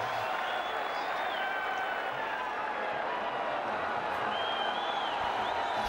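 A packed cricket stadium crowd at a Peshawar Zalmi vs Quetta Gladiators playoff match cheers and claps in a constant loud wash, with whistles and shouts rising out of the roar.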